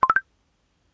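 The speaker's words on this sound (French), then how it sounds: "c'est quoi tous ces notifs là?" A quick series of three short electronic beeps from a phone notification, each rising slightly in pitch, loud and close, followed by silence.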